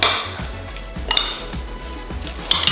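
A spoon stirs hummus with olive oil and lemon juice in a bowl, giving repeated light scraping clinks against the dish, close and clear, with no talking.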